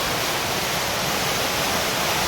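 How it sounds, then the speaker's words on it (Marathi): Heavy monsoon rain pours down in a Konkan village, a dense, loud, unbroken roar of water with no pauses and no voices. "भरपूर भयानक पाऊस आहे आज. डेंजर, मोठीच सर आली."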